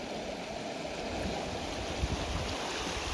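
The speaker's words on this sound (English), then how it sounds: "So this is a creek." A creek at a gold-panning spot flows steadily, a broad, even rushing wash of water close by with no voices.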